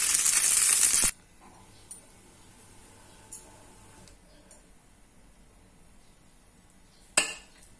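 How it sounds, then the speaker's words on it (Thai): A utensil scoops vegetarian American-style fried rice onto a plate. A loud scraping burst comes first, then a few sparse clinks of metal on the dish spaced across a quiet stretch, with a final sharp clink. "ตักใส่จานกันเนาะ ตักใส่จานกัน"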